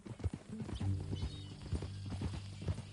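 Horse hooves clip-clop at a steady walking rhythm in a Western-style video game, fairly close, with a brief whinny and background game ambience.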